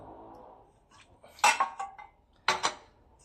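Cassava cake mixture is scraped and tipped into a baking tray, giving a few sharp clinks and scrapes of utensil against metal and a soft pouring sound, close up, with no talking.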